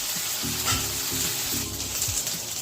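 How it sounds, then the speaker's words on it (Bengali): Spice paste and onion fry in oil with a dense, close sizzle, broken by a rhythmic series of scraping, stirring strokes. "মশলাটাকে ভালো করে ভেজে তেল বার করতে হবে"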